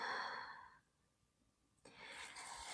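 A slow, audible exhale during a calming yoga flow, a soft breathy rush that fades into quiet, then a second breath sound rises near and steady.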